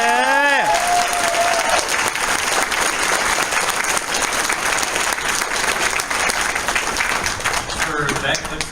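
Crowd applause at a BronyCon panel, dense and loud, sustained throughout after a brief cheer from a voice at the start, with some voices mixed in near the end.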